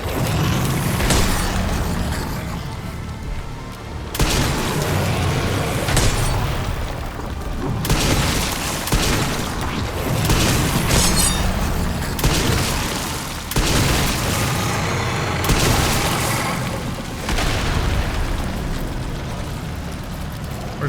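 Heavy gunfire roars in Resident Evil Requiem, a long, loud barrage of booming shots and blasts with brief lulls between volleys, dense low rumble filling the whole stretch.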